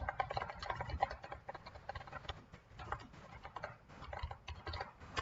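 Someone types on a computer keyboard while cataloging a cologne collection. Rapid, uneven clusters of close key clicks patter along steadily for several seconds, with no talking.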